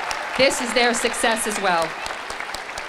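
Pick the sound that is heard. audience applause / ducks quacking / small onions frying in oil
audience applause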